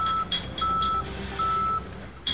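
A truck's reversing alarm beeps in a steady repeating pattern of three clear, evenly spaced electronic tones, loud and close over a low engine hum.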